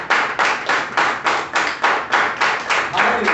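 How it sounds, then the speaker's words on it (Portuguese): Steady rhythmic clapping from a church congregation, about three claps per second, loud and close, with no voices over it. "Que você venha dar uma salva de palmas agora"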